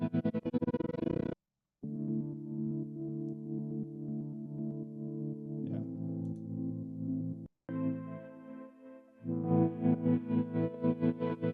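A distorted synth tone wobbles with rhythmic modulation, its pulsing rate shifting across the passage, broken by short silent gaps.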